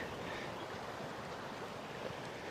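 Paiute Creek, a mountain creek in the Sierra Nevada, flows with a steady broadband rush of water, continuous and even throughout, with no voices.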